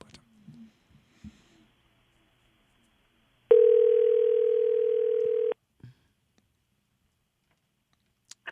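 A steady telephone dial tone sounds on a phone line for about two seconds, loud and unbroken, bracketed by faint clicks and a few soft handling noises in an otherwise quiet room.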